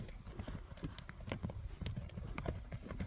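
A blue-grey horse's hooves clip-clop in a quick, irregular rhythm at moderate distance, faint overall, with a voice murmuring briefly in the background.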